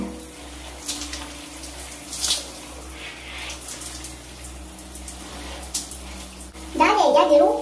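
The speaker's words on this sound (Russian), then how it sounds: "Надо, чтобы вода лилась вдоль по волосам, да, то есть вот прям сверху вниз" Water streams down over long hair during washing, a soft continuous splashing and running flow, with a few louder surges and a voice briefly speaking near the end.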